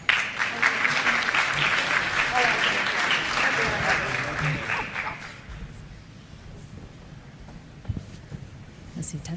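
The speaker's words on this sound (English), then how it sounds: "Please give my panelists a round of applause." Conference audience applauding the panelists, a loud burst of clapping for about five seconds that fades into scattered claps and room noise with a few voices.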